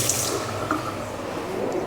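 Water runs steadily from a tap in a campsite washroom, a continuous close hiss and splash with no talk.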